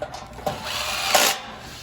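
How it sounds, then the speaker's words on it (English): A power drill with a Phillips bit whirs in short bursts close by, assembling a Weber Genesis II S-435 barbecue, with a longer high-pitched run near the end as a screw is driven in. "take your drill. You're going to be using a Phillips bit"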